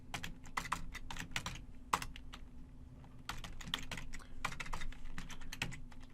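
Close keyboard typing comes in quick irregular bursts of clicks separated by brief pauses, quiet against a faint steady hum.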